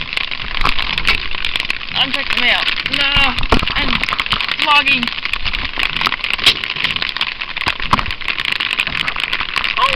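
Rain falling outdoors in British Columbia, Canada, a steady hissing patter heard close by throughout while a person talks over it.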